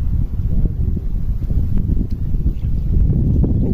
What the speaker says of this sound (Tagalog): lumalakas na ang hangin!